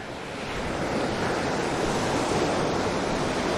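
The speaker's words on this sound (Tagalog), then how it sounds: "kahit na malalaki pa yung alon at saka high tide" Big ocean waves at high tide roar in a continuous heavy wash of surf, with wind buffeting the microphone. The sound swells slightly and stays loud, with no voices.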